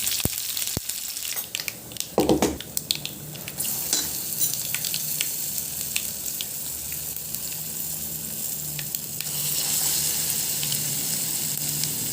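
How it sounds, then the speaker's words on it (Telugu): Spices crackle and sizzle in hot oil as the tempering for gongura chutney goes in, a dense bright hiss with clinks of stirring, loudest early and continuing steadily without speech. "ఇదండి తాలింపు వేసేసాము గోంగూర చట్నీ"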